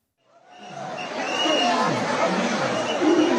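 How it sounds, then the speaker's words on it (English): A dense crowd of travellers packed into New Delhi railway station, a rising roar of overlapping voices and shouting that swells in from quiet and holds loud and close. "The station was packed with crowds traveling for the Kumbh Mela, the world's largest religious gathering"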